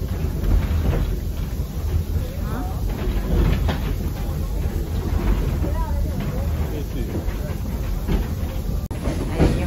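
An old train with wooden window frames at the Meiji Mura open-air museum rumbles steadily along with continuous rattling and hiss, people talking faintly over the running noise.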